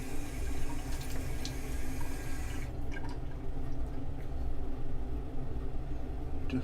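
Water runs steadily from a tap to rinse something off, a constant close hiss and splash that turns a bit quieter and thinner partway through, with no talking.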